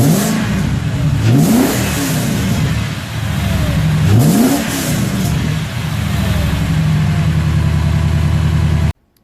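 A Ford BA XR8 V8 fitted with a cold air intake runs loud and close, rumbling steadily with two sharp revs that climb and fall back before the engine cuts off at the end.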